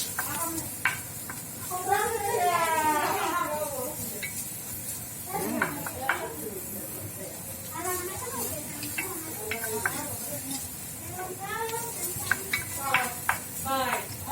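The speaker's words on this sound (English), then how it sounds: "you're going to mix it all around for about a minute until you can really smell everything come out" Carrot and ginger soup ingredients stirred around in a pot, with soft scraping and a light sizzle under a talking voice.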